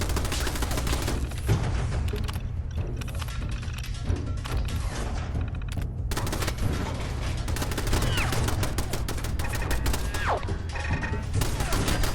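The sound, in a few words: turrets firing guns in video game Fallout 4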